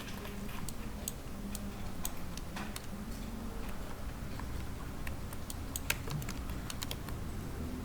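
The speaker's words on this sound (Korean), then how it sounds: "Shift 키를 눌렀습니다." Computer keyboard keys are pressed while working in SketchUp, giving scattered sharp clicks over a steady low hum.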